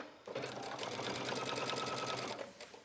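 Sewing machine tacking a pocket into the seam of an A-line skirt, one close, steady rapid stitching run of about two seconds with a sharp start and stop.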